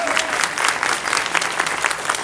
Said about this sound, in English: give us a round of applause for what we're calling the E-Men